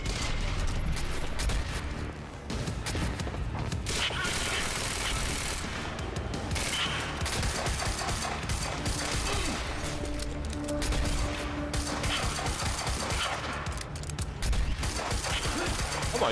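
Dense, continuous gunfire from the shooter game Quantum Break, with rapid overlapping bursts and mechanical clatter that stay loud and close with hardly a gap throughout, and no speech.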